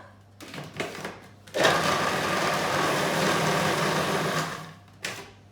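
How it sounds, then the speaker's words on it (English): A kitchen food processor or blender whizzes boiling-water-soaked dates into a paste, starting with a few short pulses, then running in one loud, steady, close-up burst before cutting off, with a brief final pulse. "So the dates that had boiling water, just going to whiz that together."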